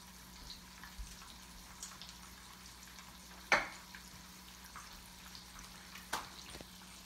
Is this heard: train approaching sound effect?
no